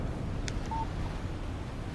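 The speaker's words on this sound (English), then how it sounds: "Text message from Barry." A phone text message alert in the video game Alan Wake Remastered sounds as a single short electronic beep after a faint click, over a steady low background hum.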